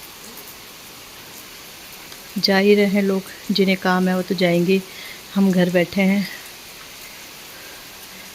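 Steady rain falls on the ground in Dehradun, India, hissing evenly throughout, with someone speaking a few short phrases over the continuous patter.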